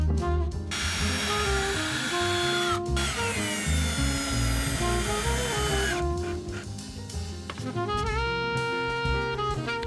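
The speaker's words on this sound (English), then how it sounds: "just screwing these together and placing it on top of that little half table" A power drill drives screws into wood while a small SUV camper is built, whining in several sustained bursts with brief gaps and pitch changes as the motor speeds up and slows.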